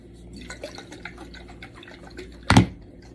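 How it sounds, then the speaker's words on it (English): Thick bentonite clay mask mixture pours into a bowl with soft wet dribbling sounds and a louder splashy plop near the end, close and alone. "So I'm just gonna pour it into my bowl."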